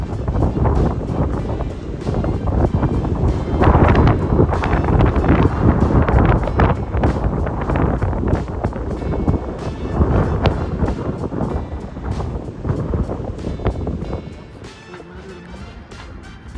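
Strong gale-force wind buffets the microphone at a boat dock, a loud continuous roar with gusting surges that eases slightly toward the end.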